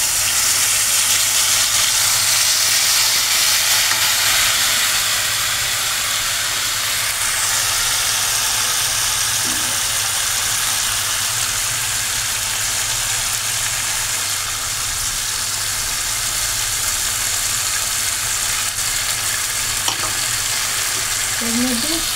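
Cumin paste, dried chili, turmeric, salt and tomato paste hitting hot oil in a pan for potato and pointed gourd curry, a loud continuous sizzle and hiss that holds steady throughout, with occasional faint clinks.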